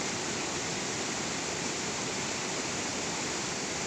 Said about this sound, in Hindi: पानी का बहाव कितना ज़्यादा बढ़ रहा है